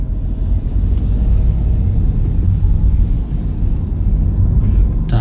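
A manual-transmission car on a driving test course pulls away after being put into gear, its engine giving a steady, loud low rumble with road noise throughout and no talking.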